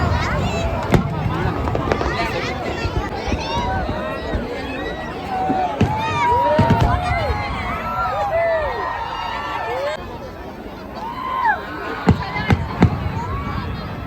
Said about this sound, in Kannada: ಕ್ರ್ಯಾಕರ್ಸ್ ನೋಡ್ತಾ ಎಲ್ಲ ಪಟಾಕಿ ಹೊಡಿತಾ ಇದ್ದಾರೆ ನೋಡಿ, ಚೆನ್ನಾಗಿ ಪಟಾಕಿ ಶೋ ಹೋಗ್ತಾ ಇದೆ.